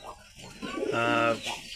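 A male Indian chot pigeon, a white high-flyer, gives a single close, throaty rolling coo that swells and fades within a couple of seconds.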